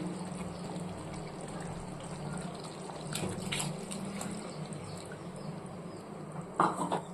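Water pours in a steady, soft gush into a pot of okra tamarind curry, close by, with a few light clinks and splashes toward the end.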